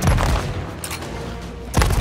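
Gunfire in the video game Sea of Thieves: a loud burst of shots right at the start, a lull, then another close volley just before the end.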